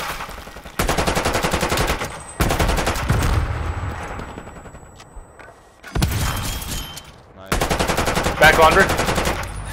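Rapid automatic gunfire in a multiplayer shooter match, several loud, sharp bursts separated by short pauses and decaying echoes, with brief talk mixed in.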